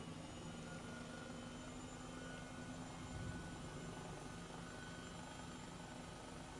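Airbus H135 helicopter lifting off in a flight simulator, a steady loud rotor and turbine drone with a constant whine and a slight swell in the middle, continuous and close with no voices.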